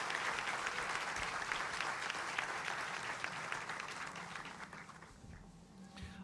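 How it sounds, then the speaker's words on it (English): Audience at the Wallis Annenberg Hall grand opening gives a big round of applause, dense clapping that holds steady and then gradually tapers off, fairly close. "He does deserve a big round of applause."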